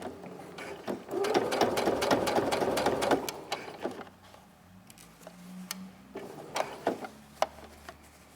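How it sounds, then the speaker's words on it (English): A sewing machine stitches a tote bag seam in short bursts, a rapid mechanical whir with clicks of the needle, one long run followed by brief stop-start stitches, fairly close. "I'm just going to line up with the edge of the presser foot so that I sew a 1/2 inch away"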